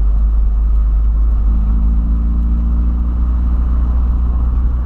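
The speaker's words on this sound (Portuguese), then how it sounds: "Só pra dar aquela aquecida no motor." A Volkswagen Voyage's engine idles as the car warms up on its way out of a garage, giving a steady, close, low rumble throughout with a faint wavering tone in the middle.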